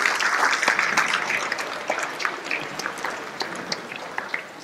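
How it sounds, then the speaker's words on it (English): Audience applause at a school celebration welcoming the chief guest: many hands clapping together, loud and dense at first, then thinning and tapering toward the end with scattered individual claps. "Please welcome her with a huge round of applause"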